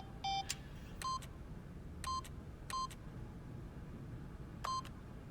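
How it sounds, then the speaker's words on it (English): Keypad buttons in The Stanley Parable pressed one at a time, five short electronic beeps at uneven intervals, each a clear tone over faint room hum. "by simply pushing random buttons on the keypad, Stanley happened to input the correct code"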